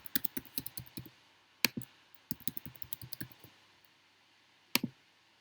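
Keys tapped on a computer keyboard while a password is typed in, quick bursts of crisp clicks in short runs with pauses, close and fairly quiet, no voices.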